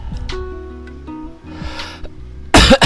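A single sharp cough bursts out loudly near the end, preceded by quiet breathing, a soft snort and faint background hum.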